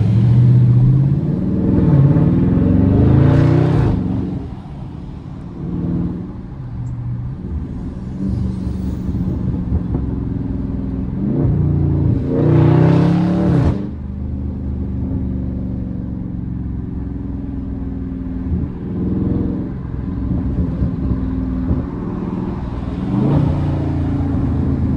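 Dodge Charger Scat Pack 392 V8 cruising with a steady, loud engine rumble, swelling into two sharp revs early on and midway before settling back to a constant drone.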